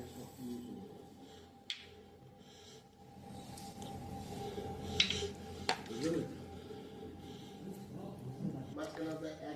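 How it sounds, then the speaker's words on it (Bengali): Spices including poppy seeds, white mustard and chillies are ground on a stone slab, with rough scraping and rubbing strokes plus a few sharp knocks, faint and close, while a person talks over it. "আমি প্রথমে মশলাটা শিলে বেটে নেব।"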